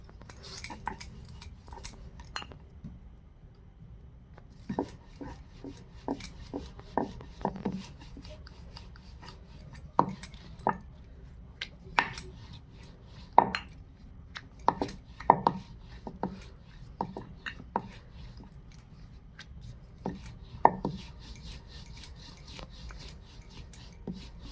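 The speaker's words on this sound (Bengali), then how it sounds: "ঠিক এরকমভাবে বেলে নিতে হবে, খুব মোটাও নয় খুব পাতলাও নয়।" A rolling pin works nimki dough on a dusted board, giving scattered knocks and scraping rubs at an irregular pace, close and fairly quiet, with long quiet gaps between the sharper taps.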